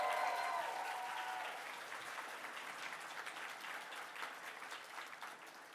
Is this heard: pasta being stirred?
no